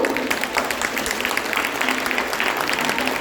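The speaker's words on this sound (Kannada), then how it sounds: "ಇನ್ನೂ ಜೋರಾಗಿ ಚಪ್ಪಾಳೆ ಬರ್ಬೋದು" A seated audience applauds a children's Kannada class performance in Cupertino with brisk, continuous clapping from many hands. It sounds moderately close and fairly even, with a soft murmur of voices beneath.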